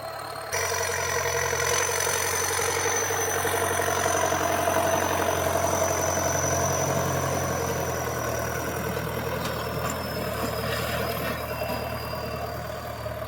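A tractor engine labours as it ploughs through hard, compacted field soil along a bank, a steady close mechanical drone with a low rumble that holds without a break and with no voices.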